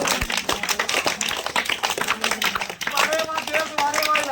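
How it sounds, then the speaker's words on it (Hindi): An audience at a village magic show claps hands in rapid, uneven bursts throughout, dense and steady. A voice or chant rises over the clapping toward the end. "अरे दादा और मेरे भाई के मुद्दे को ताली बजा दो"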